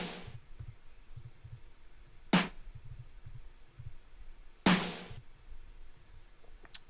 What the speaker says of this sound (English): Current snare sounds like this.